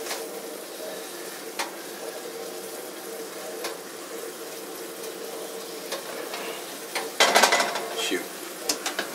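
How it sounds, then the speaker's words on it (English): Meat cooking in water in a cast iron pan gives a soft, steady sizzle and bubbling with occasional clinks and scrapes of stirring, growing busier and louder near the end. "I'm going to end up boiling the meat."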